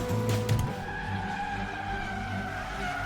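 A car driven recklessly fast skids with a loud tire screech at the start, then its engine keeps droning steadily at speed.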